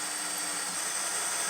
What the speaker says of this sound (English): now that we have all 4 pilot holes drilled